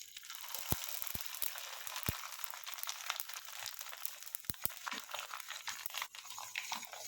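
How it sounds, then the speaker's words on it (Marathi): Sago-topped salpapad fries in hot oil with a dense, steady sizzling hiss broken by scattered sharp crackles and pops, close and continuous, no one speaking. "आता हा शाबूचा पापड आहे याच्यावरती आपण शाबू घातलेले तो पण तळून बघायचा आहे"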